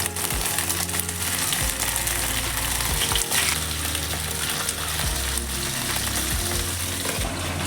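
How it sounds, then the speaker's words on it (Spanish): Chicken pieces sear in a hot pan with a loud, continuous sizzle and frying crackle, while occasional scrapes and knocks of stirring come through the steady hiss, close up with no speech. "No los vamos a cocinar del todo de momento, solo sellar un poco la carne, que doren un poquito."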